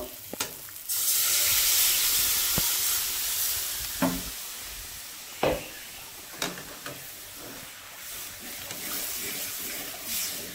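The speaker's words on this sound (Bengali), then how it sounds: "জল দিয়ে দিব।" Water hits a hot pan with a loud burst of hissing sizzle that keeps going steadily, broken by a few sharp clinks and scrapes of a utensil, while a meatless mock-fish curry cooks.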